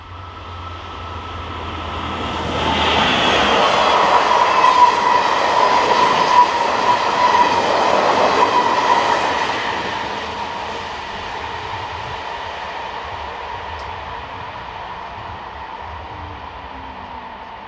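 Diesel locomotive 75097 rumbles past heading north, its engine swelling to a loud drone with rhythmic wheel noise, then receding into a steady fading roar.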